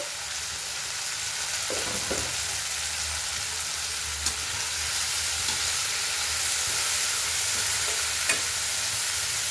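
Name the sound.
frying and stirring broad beans in pan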